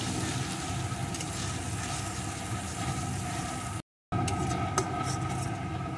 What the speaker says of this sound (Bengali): অল্প আছে পেঁয়াজ বাটাটা একটু ভেজে নেব।